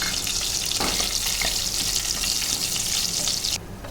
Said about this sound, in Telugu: ఆయిల్ బాగా మరిగాక మన పోపు సామాన్లన్నీ వేయించుకొని ఫ్రై చేసుకుందాం